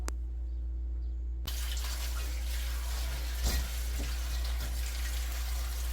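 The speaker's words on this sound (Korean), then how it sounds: "돌나물도 여러 번 씻어줘야 됩니다" Stonecrop greens being rinsed under running water for water kimchi: a steady, close tap flow with a soft splash partway through.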